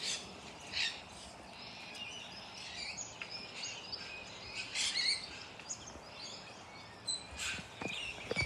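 Wild yellow cockatoos and lorikeets calling outdoors, scattered sharp squawks and chirps rising over a faint background of insects, spaced irregularly through the scene without any talking.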